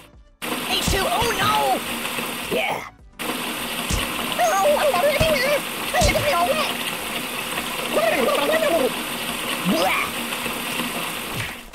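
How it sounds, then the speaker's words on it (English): Liquid splashing and gushing in a physics video game, a continuous watery wash with bubbling bursts, heard beneath an excited voice talking over it. "Water, water everywhere! You're drowning me!"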